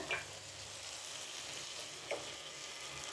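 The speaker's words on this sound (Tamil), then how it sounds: "இந்த மாதிரி கொஞ்சம் ப்ரௌனாக வர வரைக்கும் ஃப்ரை பண்ணிப்போம்." Butter and maida flour fry gently on a low flame for a white sauce, a faint, steady sizzle with two brief scraping clicks from stirring, with no voices.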